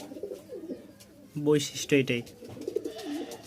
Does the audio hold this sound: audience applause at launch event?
no